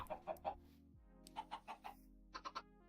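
Minecraft chickens cluck in short bursts of three or four quick, faint notes with brief pauses between, over a low steady background hum, with no talk.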